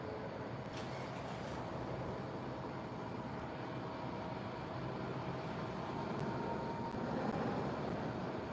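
Airplane cabin noise during flight, a steady broadband engine and air roar that stays constant throughout, with no talking.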